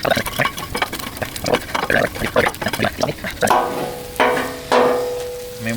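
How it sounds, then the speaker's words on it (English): Pork belly is tossed in a sticky sauce on a Blackstone griddle, with busy wet sizzling and rapid scraping of a spatula, then a few louder clanks near the end. "I'm gonna start adding this in, tossing this pork belly in the sauce"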